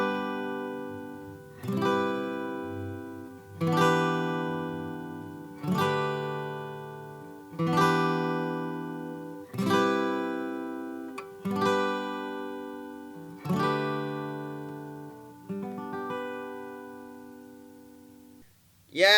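Acoustic guitar strums a series of ringing chords, one every two seconds or so, each left to decay before the next, closing out the ending progression of a song alone and clear.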